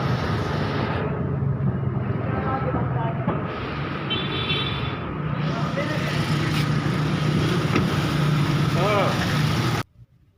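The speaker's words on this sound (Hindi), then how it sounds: "गाड़ी बाहर निकल रही है" A newly bought car pulls out of the Al Rahman Motor dealership with a low, steady engine rumble under ongoing talk, then cuts off abruptly near the end.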